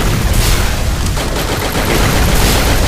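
Dense, loud gunfire in the mobile shooter Free Fire, with rapid overlapping shots and bursts forming a continuous barrage across the whole stretch.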